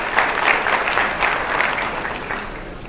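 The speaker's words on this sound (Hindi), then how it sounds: "इसके लिए जोरदार ताली।" An audience applauds loudly, with dense, steady clapping from a crowd. It holds up for about three seconds and fades slightly at the end.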